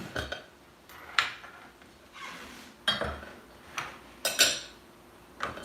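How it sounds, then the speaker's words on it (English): Knife chopping lettuce in a home kitchen while dinner is finished: a handful of separate crisp cuts and clinks spaced about a second apart, close and fairly quiet, with no talking. "I gotta cut up some lettuce for her"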